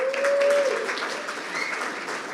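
A crowd at a sales leaders awards evening applauds as the event co-host is invited up, a brief burst of steady clapping with a faint tonal sound briefly over it near the start.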